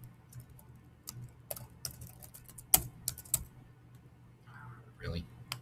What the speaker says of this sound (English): just so you don't have to watch me type